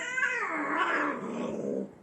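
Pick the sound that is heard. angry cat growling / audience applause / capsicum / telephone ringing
angry cat growling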